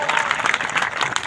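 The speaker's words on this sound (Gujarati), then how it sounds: "તાળીઓ પાડો ભલા માણા" Applause from an audience at a political gathering in Radhanpur, a dense, steady wash of many hands clapping that continues without pause for the whole moment.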